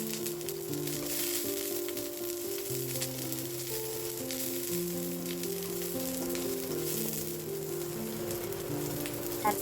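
Ginger, onion and garlic sautéing in a hot pan for chicken tinola, a dense crackling sizzle like light rain, steady and close, with soft background music underneath and no speech.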